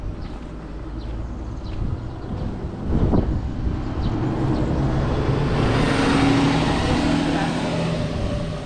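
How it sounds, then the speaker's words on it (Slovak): A bus drives past on a village street in Malá Tŕňa, its engine rumble and road noise building from a distance to a loud, close whoosh before holding steady. "Autobus ide."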